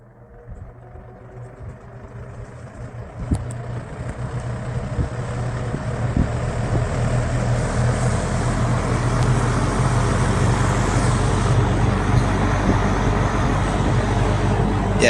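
An electrically reversible three-speed fan winds up to high speed, its smooth whooshing hum swelling steadily louder and then holding even and close.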